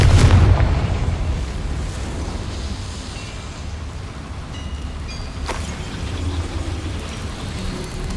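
In the video game Hogwarts Legacy, a Confringo fire spell explodes inside a small mine with a loud, heavy boom, followed by a long, rumbling crackle of debris that gradually settles.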